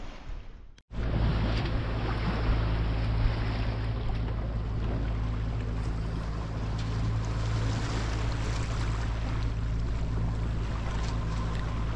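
A small boat's motor drones steadily and close by on a river near Tendaba, Gambia, a low constant hum with hiss of wind and water running throughout, no voices.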